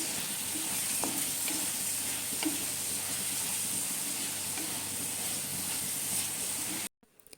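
Onions sauté in a pan with salt and turmeric, giving a steady close sizzle and hiss with occasional stirring scrapes, ending in a sudden cutoff near the close.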